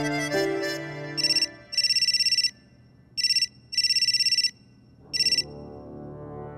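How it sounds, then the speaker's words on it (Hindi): A phone ringtone chimes in five bright bursts of repeating electronic tones, loud and close, separated by short pauses, with faint background sound between them. "किसका फोन था?"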